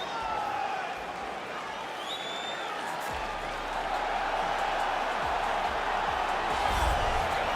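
Crowd in a UFC 4 video game arena cheering and applauding as a fighter walks out, a broad roar that builds and grows louder toward the end, under a commentator's voice.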